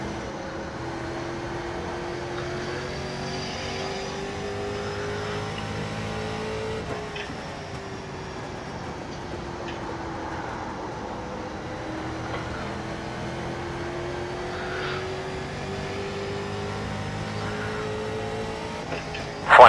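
Street stock race car engines drone continuously in an iRacing sim race at USA Speedway, a steady layered roar with shifting pitch from several cars running together through the green flag start, heard alone without talk.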